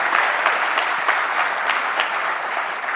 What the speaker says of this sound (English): Another round of applause for our incredible MCs over the 2 days, Debbie and Ilan.